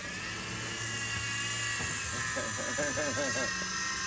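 A Hercules unbreakable RC helicopter flies at full throttle, its steady, close, high-pitched rotor and motor whine running through the whole stretch, with brief voices over it near the end.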